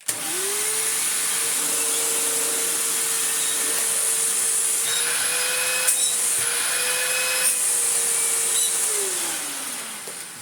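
A Hoover Windtunnel upright vacuum cleaner runs steadily and loudly for the whole stretch, a constant motor whine with airy rushing noise, briefly shifting in pitch before winding down at the end.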